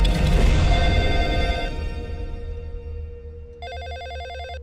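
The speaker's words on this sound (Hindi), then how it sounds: "फोन उठाओ ना" An old-style telephone bell rings in a rapid electric trill, sounding clearly after a loud burst of noise fades away.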